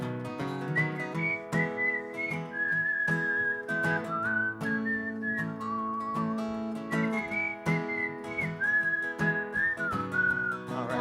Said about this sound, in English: A chorus of whistlers.